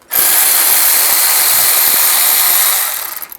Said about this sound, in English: Use a 10mm socket to take those 2 bolts out.